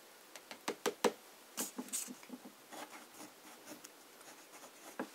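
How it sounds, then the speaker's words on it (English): A flex fountain pen writes on paper with close, quiet scratches and taps in short irregular strokes, a few slightly louder scrapes among them. No one speaks. "now I'm going to use this bloody flex pen for the last time."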